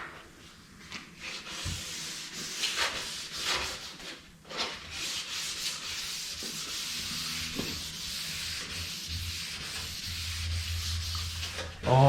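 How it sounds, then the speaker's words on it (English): Close, steady strokes of wet sanding on a 1969 Chevelle body panel, with a soft rhythmic rubbing and hiss and brief pauses between passes. "I think this will sand out real nice with the wet sand."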